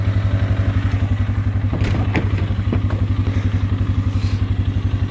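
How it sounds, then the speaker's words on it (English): A four-wheeler ATV engine idles close by on a mule deer hunting trip, a loud, steady low chugging pulse with a fast regular beat and occasional clattery knocks over the top. "let's get that four-wheeler moving"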